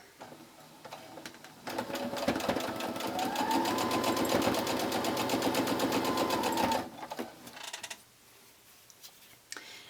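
A sewing machine stitches mini quilt blocks in a steady, close run of several seconds that then stops, leaving quiet handling noises.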